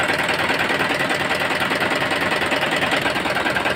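A Mitsubishi Canter truck with a 4D32 diesel engine warms up at idle, giving a steady, even clatter at moderate distance with no voices.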